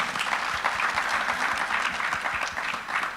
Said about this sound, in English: can we just have a round of applause for our panel participants?